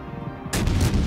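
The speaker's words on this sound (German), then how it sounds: "er macht einfach wirklich Semifeuer und schießt halt wirklich jeden Turm einzeln raus" Battleship turrets of the Pjotr Weliki in World of Warships Legends fire one at a time, opening with a sharp, heavy cannon blast and then further booming shots in quick succession after a quiet stretch.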